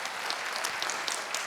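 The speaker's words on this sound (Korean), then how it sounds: "우리 하나님께 영광의 감사의 박수를 한번 드립니다" A church congregation claps together in sustained, fairly distant applause, a dense patter of many hands.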